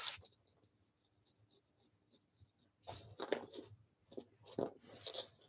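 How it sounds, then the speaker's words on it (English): A pencil drawing a line on rosewood during a woodworking job making mini skateboards, faint at first, then scratchy strokes in short repeated bursts, close and alone. "make that pencil line a little bit heavier."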